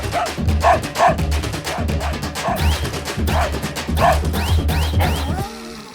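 A dog in a horror film barks repeatedly and fairly close, sharp regular barks with a few yips between them, before falling quiet at the end.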